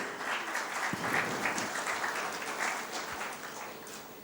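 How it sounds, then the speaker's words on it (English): An audience claps at a business event, a dense even patter of many hands that holds steady for a few seconds, fairly faint and distant, then starts to taper off. "Give them a big round of applause."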